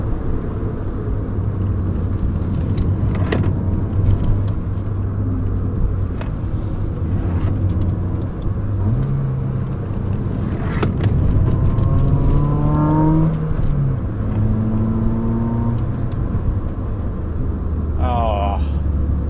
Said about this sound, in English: I can't get over that engine note.